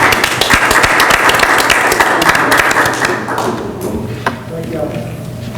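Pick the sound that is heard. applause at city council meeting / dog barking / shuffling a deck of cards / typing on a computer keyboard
applause at city council meeting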